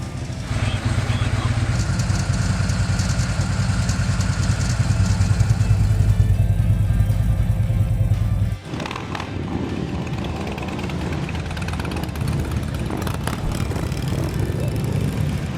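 A Harley motorcycle engine idles with a steady, deep low rumble, loud and close, with a brief break partway before the rumble continues.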